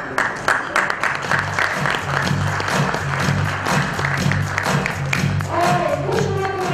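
A conference panel audience breaks into a burst of hand clapping that carries on steadily at moderate volume, fading out near the end as a voice begins.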